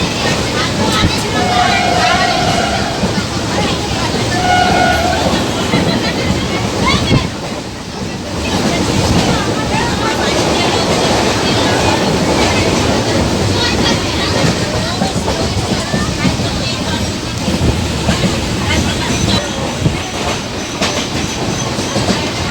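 A crowded local passenger train running on its tracks, with a loud, steady rumble and rattle of wheels and carriages heard from inside, continuous throughout, with faint voices in the background.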